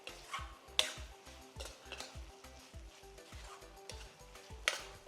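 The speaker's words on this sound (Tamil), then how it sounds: "இப்போ நம்ம ஃப்ரை பண்ணி வச்சுருக்கிற இந்த வெண்டைக்காயை உள்ளே போட போகிறோம்" Fried okra is stirred into a sizzling masala in a pan, with a soft steady fry under light rhythmic scraping and two sharper clinks of the utensil against the pan.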